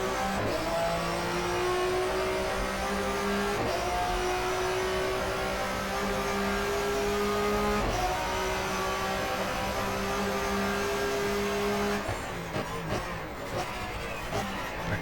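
A touring car engine in the GTR2 racing game, 1994 German Touring Car Cup at the Nurburgring, holding a steady loud drone with abrupt pitch drops at gear changes and a harsher rough stretch near the end.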